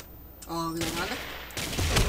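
Grenade explosion and gunfire in the video game Ace of Spades, a burst of loud blasts and rapid shots following a brief tonal game sound, close and dense, with a voice partly mixed in.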